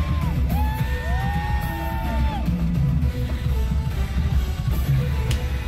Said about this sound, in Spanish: no escucho que canta ahí, por los gritos de la gente